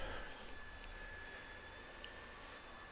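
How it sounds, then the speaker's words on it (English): A faint, steady mechanical whir of a robot vacuum hums low in the background throughout, with no talking. "If you hear that vacuum going in the background, that's my robot vacuum"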